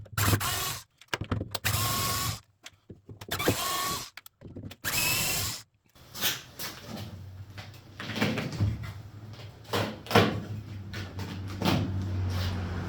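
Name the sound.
unscrewing and popping out a trim piece from a Datsun 280Z shell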